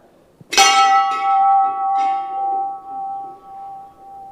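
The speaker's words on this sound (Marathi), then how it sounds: "जुन्या पद्धतीचा आणि डोकं शांत करणारा हा घंटा नाद आहे" An old temple bell at a centuries-old samadhi shrine in Junnar taluka is struck once, loud and close, and its bright metallic tone hums on with a long, slowly pulsing decay.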